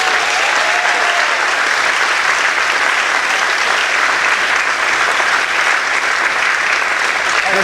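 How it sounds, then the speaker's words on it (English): A circus show audience at Silver Dollar City in Branson, Missouri claps loudly and steadily, a dense, sustained wash of applause filling the whole stretch. "give my mom a big round of applause"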